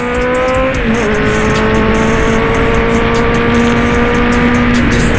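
A Kawasaki Z800 converted to ZX8 styling rides straight along a road, its engine droning loud and steady at close range with a slight shift in pitch early on, joined by rushing wind and no voice.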